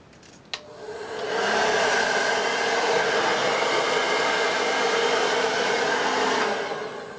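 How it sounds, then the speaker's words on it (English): A blow dryer fitted with a nozzle clicks on and runs as a steady, close whoosh while hair is dried over a round brush, holding constant for several seconds before easing off. "and then just basically just blow dry my hair"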